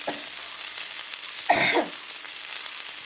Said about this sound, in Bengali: আজকে এইভাবে ভেজে দেবো